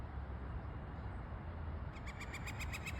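A bird calls from a rooftop in the morning, starting partway through with a quick series of about seven evenly spaced, fairly loud repeated notes over a steady background hiss.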